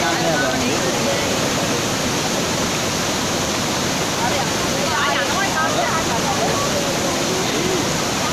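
Loud, rushing floodwater roars without pause, close by, during a landslide in Hanwella, Sri Lanka, with faint voices briefly audible beneath the torrent.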